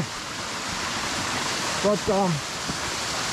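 Stream water that has been piped underground pours out of a pipe in a woodland valley, a steady broadband rush close by, with someone speaking briefly over it.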